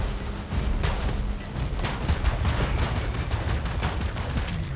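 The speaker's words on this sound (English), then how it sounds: "he's sitting in the airstrike." Airstrike explosions and gunfire in the video game War Robots Frontiers form a dense, continuous barrage of booms and rapid shots, loud and close, with no pauses across the stretch.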